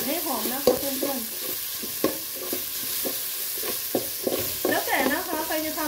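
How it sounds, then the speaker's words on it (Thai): Pounded garlic and coriander root stir-fry in hot oil with a bright steady sizzle and regular spatula strokes against the pan, some faint voice in the background. "กระเทียมลงไปผัดเลยนะคะรากผักชี"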